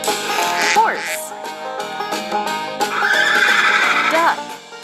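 A horse gives two clear, high whinnies that rise and fall, set over bouncy background music in a children's farm-animal game.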